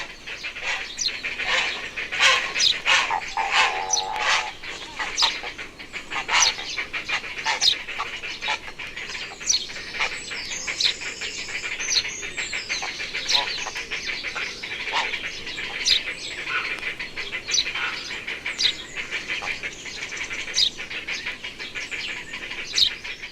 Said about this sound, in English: In the heronry, young birds are now being fed in the high nests, and the wood is full of raucous noise.